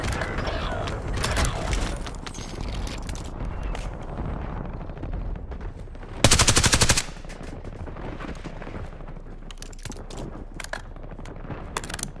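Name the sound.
weapon reloading in Black Ops 6 video game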